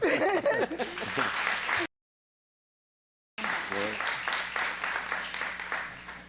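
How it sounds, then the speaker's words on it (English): Attendees at a parish council meeting applaud a public speaker, a crowd clapping beneath voices and light laughter, broken by a brief dead silence before the clapping and talk resume. "You got an extra round of applause for being less than 3 minutes."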